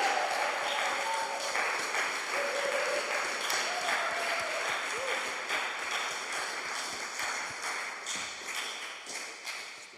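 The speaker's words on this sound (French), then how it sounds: "on peut l'applaudir." An audience applauding a guest speaker at a talk event, a dense, sustained wash of clapping with scattered cheers, steady and fairly loud, tapering slightly toward the end.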